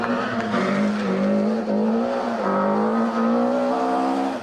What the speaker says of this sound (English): So Bruce in the Nissan Sunny goes through.